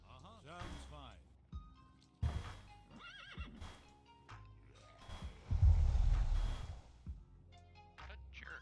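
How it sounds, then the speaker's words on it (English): A horse neighs and whinnies in World of Warcraft, with clip-clop hoofbeats and other game effects around it, over steady background chatter from players. "Let's go get the horse."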